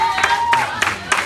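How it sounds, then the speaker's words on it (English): Church congregation clapping during worship after a sermon introduction, a few strong rhythmic claps roughly every third of a second over crowd noise and a sustained voice or instrument tone. "Come on, y'all clap your hands for the Lord."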